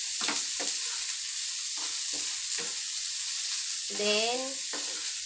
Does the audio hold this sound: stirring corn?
yes